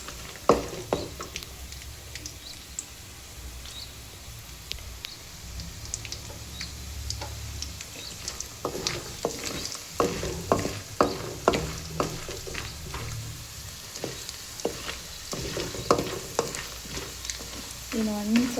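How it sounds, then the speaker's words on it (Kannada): Tempering spices for ragi poha crackle and pop in hot oil, sharp irregular snaps over a low sizzle, joined by occasional stirring scrapes, close by with no talk. "ಇದು ಸ್ವಲ್ಪ ಸೌಂಡ್ ಮಾಡುತ್ತೆ ಚಟಪಟ ಅಂತ, ಅಲ್ಲಿವರೆಗೂ ಹುರ್ಕೋಬೇಕು."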